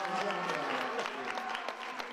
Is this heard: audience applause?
yes